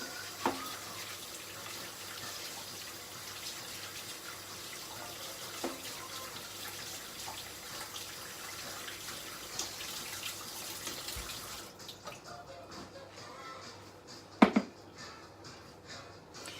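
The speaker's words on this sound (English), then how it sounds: "So I'm washing the potatoes." Steady running tap water splashes into a sink as potatoes are washed for most of the clip, then cuts off, followed by a couple of brief clunks.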